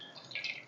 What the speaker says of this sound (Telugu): వడగట్టేస్తున్నానండి